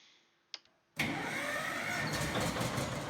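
In the video game Farming Simulator 19, a click, then an electric-start tractor engine without a cab cranks and roars to life at about one second, running loud and steady with a rough idle for the rest of the clip.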